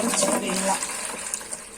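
Water running from a tap into a bucket set down on an outdoor interlock paving area, a steady gushing splash heard close, with a person talking over it.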